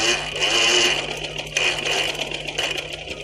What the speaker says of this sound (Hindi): मैं सिलाई लगा रही हूँ